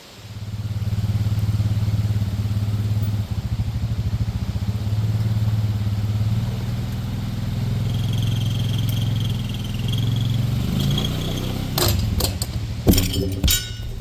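A Can-Am Outlander ATV engine drones loud and steady at low pitch, straining to pull a heavy pole in a backyard, with metallic clinks and clatter breaking in near the end.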